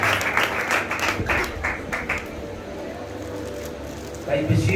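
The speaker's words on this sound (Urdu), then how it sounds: "آپ سب کی زوردار تالیوں میں" Loud applause and clapping from a church gathering in Gojra welcoming a pastor, bursts of hand claps over the first two seconds with voices talking throughout.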